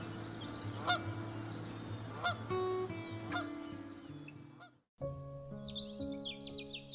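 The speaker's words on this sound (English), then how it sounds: "These pre-migratory gatherings can reach thousands of individuals and transform bays into noisy bird conferences." A large pre-migratory flock of waterbirds gathered on a bay in Yellowstone keeps up a dense, continuous chorus of overlapping honks and calls, with louder individual honks standing out, followed after a brief gap by more honking and higher chirps.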